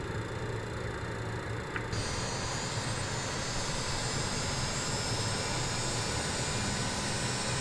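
Engine number 1 of a BAe 146 airliner in Microsoft Flight Simulator spools up, a loud steady jet roar that suddenly brightens and swells partway through, then holds as a dense continuous whine and rumble.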